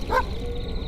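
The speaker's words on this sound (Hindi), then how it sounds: "तब कुत्तों के भौंकने की आवाज आने लगी" A dog barks once, a short yelping bark near the start, in a dark, quiet outdoor setting by an old pond at night, followed by low steady background hiss.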